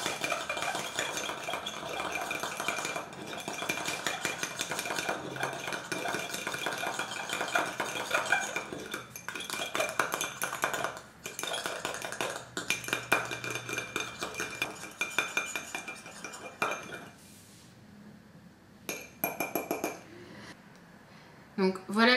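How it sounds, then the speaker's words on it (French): Vigorous stirring of bronze pigment into eyeliner gel, a dense run of small clinks and scraping rattles against a container, steady and close, easing off near the end. "il faut bien mélanger de façon énergique pour éviter toute formation de grumeaux"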